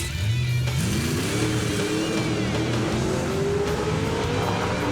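A 1988 Ford Mustang drag race car's engine roars loudly and climbs steadily in pitch as it accelerates hard down the track, with a gritty exhaust note throughout and no talking.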